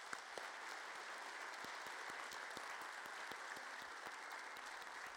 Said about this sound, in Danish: Jeg synes, vi skal give en stor klap endnu en gang for hende.